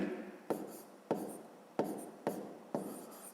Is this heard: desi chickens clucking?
no